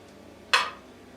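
A fork pressed into a baked potato while it is opened for kumpir, heard as one short, sharp metallic scrape and clink against a quiet kitchen background.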